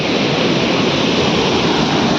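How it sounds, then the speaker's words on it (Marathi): Steady, loud rushing water fills the whole clip, a dense continuous roar of a waterfall close by at the Ellora caves, with no voices. "इथं पुढे धबधबा आहे तो खालून दिसेल"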